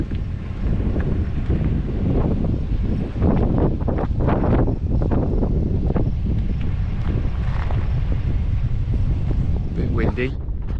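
Strong storm wind buffets the microphone in loud, continuous gusts, with someone talking over it.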